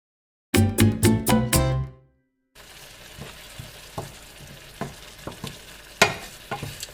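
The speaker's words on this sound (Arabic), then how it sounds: "من بعد ما طاب الشامبينيون ولا الفطر ديالنا مع البصل بحال اللي كتشوفوا خليتهم يتشحروا مزيان" Mushrooms and onions fry in a pan: a short burst of loud pulsing clatter gives way to a low, steady sizzle broken by sharp stirring clicks and taps.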